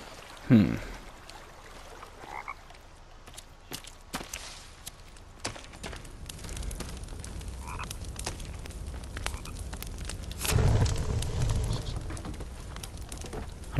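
Frogs croaking in The Forest survival video game, scattered short croaks over quiet ambience with a stream-like hiss, thumping footsteps and a louder rustling burst near the end.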